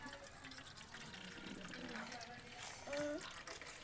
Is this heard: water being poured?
yes